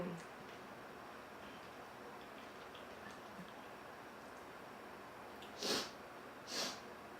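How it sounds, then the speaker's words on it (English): Two short, breathy nasal sniffles from someone eating spicy kimchi gochujang pasta, close but quiet against a faint background hiss. "If you can hear me sniffling,"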